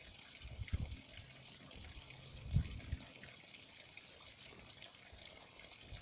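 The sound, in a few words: holy water poured during a baptism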